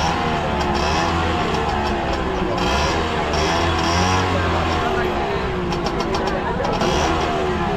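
Cars drive off a RoRo ferry at the Virar–Safale crossing, engine rumble and revving held loud and steady under a dense hum of surrounding noise.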